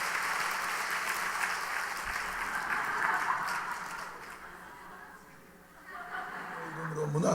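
A church congregation applauds to welcome the pastor during Sunday service, a sustained wash of clapping that fills the room, dips briefly, then swells again toward the end.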